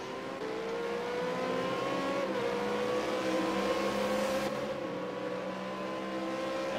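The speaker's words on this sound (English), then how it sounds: "we can hear him getting that car turning back around." A V8 Supercar engine in a racing video game drones steadily with shifting pitch as it slowly turns around on the Long Beach street circuit, a continuous close whine with no voices.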